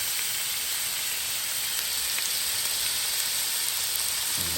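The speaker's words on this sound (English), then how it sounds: "I'm gonna put this steak in here just like that" Steak sizzling in a Power XL cooker gives a steady, even hiss, close and moderately loud, with no talk over it.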